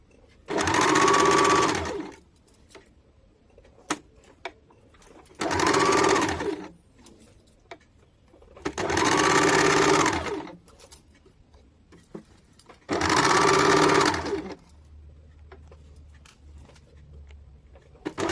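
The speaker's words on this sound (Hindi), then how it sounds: "बाद बाकी यहाँ से 1/2 इंच पे पूरे में दोनों पैर में सिलाई कर लेंगे" An electric sewing machine stitches the legs of a loose-fitting palazzo in four separate runs of about one and a half seconds each, loud and close, with quiet pauses and handling noises in between.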